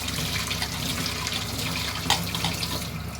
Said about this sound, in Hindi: हम नल के नीचे सिर्फ ऐसे करते जाएंगे और बीज अलग होते जाएंगे